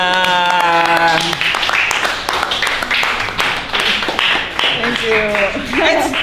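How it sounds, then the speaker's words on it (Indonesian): A short burst of clapping breaks out after a chess game is won, mixed with voices talking before and after the applause. "Tepuk tangan."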